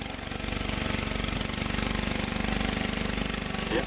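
A 1989 MTD 524 snowblower with a small 5-horsepower engine runs loud and close, giving a fast, even, pulsing chug throughout with no voices.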